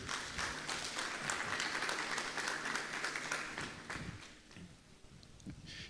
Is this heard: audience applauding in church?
yes